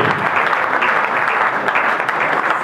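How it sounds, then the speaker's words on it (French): Audience at an official launch event for the Union Sacrée in South Africa applauding, a loud, dense, unbroken roar of many clapping hands that holds steady for the whole stretch. "Please put your hands together for me."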